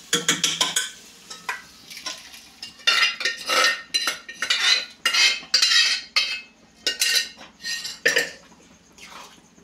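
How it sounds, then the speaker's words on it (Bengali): Vegetable curry with coriander leaves is tipped from one vessel into a cooking pot, giving a run of irregular metallic scrapes, clinks and splashy bursts close by, with short pauses between them and no talking. "তরকাটা ঢেলে দিব এবার"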